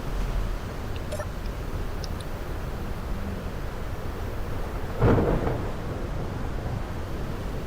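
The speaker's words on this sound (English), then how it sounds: "Ah, a lovely storm." Thunderstorm in the Space Engineers video game, a continuous rumbling wash of rain and storm noise with a louder thunder crack around the middle, no speech.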